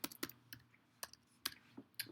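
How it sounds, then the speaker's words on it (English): Computer keyboard typing in quick irregular clusters of close, crisp key clicks with short pauses, heard alone in a quiet room. "I'm just going to continue to type in some things here"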